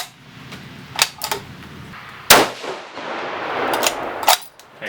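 A 6mm Creedmoor rifle firing 107-grain Match King bullets lets off a single sharp, loud report close by, trailing a brief outdoor echo amid faint handling noises.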